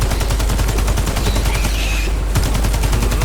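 Nonstop automatic gunfire from the shooter game Warface, during a Swarm special operation, hammers out loud and close in a fast, dense rattle with no break.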